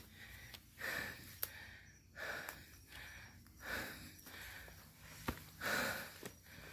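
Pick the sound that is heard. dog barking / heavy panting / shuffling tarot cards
heavy panting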